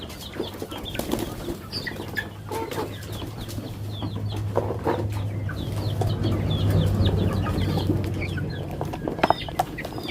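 A few backyard chickens, five to seven birds, cluck and shuffle nearby while wings flap in short bursts, a low steady hum running beneath.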